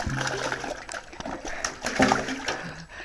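A dog leaps into water with a splash, followed by sloshing and dripping, while an owner's voice coaxes it faintly in the background.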